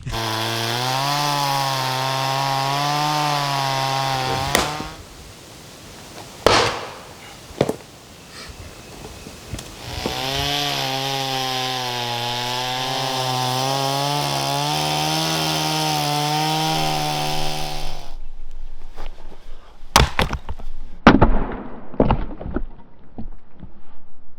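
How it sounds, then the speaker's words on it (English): A chainsaw engine roars loudly while cutting firewood, pauses briefly, then runs again for several seconds before cutting out, followed by clattering knocks of wood. "I'll get a chainsaw, John."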